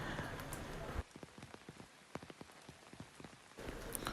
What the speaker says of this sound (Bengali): দুদিন ধরে খুব বৃষ্টি হচ্ছে